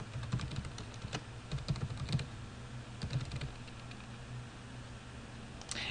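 Keys clatter on a computer keyboard as a login is typed in quiet, irregular bursts of soft taps, close up, with pauses between and no voice.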